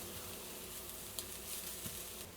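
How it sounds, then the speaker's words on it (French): Minced garlic and ginger frying in oil in a wok give a faint, steady sizzle and hiss with a few small pops, without voices. "on va remettre un petit peu d'huile dans notre wok et on va venir faire revenir l'ail et le gingembre qu'on avait haché plus tôt"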